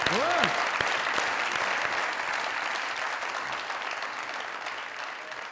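A television comedy show studio audience breaks into dense applause, loudest at the start and slowly tapering, with a brief voice and sound effect at the opening.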